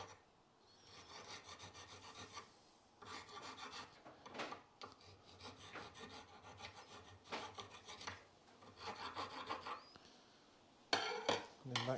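A metal file rasps across a rusty brake disc from a 2012 Kia Picanto 1.2 petrol, scraping off surface rust in repeated back-and-forth strokes with short pauses between bursts, close and clear.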